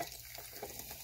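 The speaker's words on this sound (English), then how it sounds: "I am transferring it from can to cup, more specifically can to mug." Soda pours from a can into a mug as a continuous, close, fizzy splashing stream with small gurgling swells and no talking.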